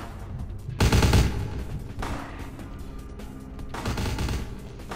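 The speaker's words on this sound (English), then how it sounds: "Are they just shooting at each other now?" Bursts of gunfire in the Vampire: The Masquerade – Bloodlines video game, a loud close volley near the start and another later, over a steady game soundscape.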